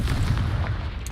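A Confringo explosive spell blast in a Harry Potter video game, a loud, low, rumbling boom that fills the brief moment.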